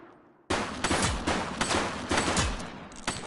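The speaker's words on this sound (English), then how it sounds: "He's shooting!" Gunfire in the video game The Precinct: a sudden dense burst of rapid, loud shots that continues almost without pause for about three seconds, with sharp individual cracks rising out of the barrage and no talk.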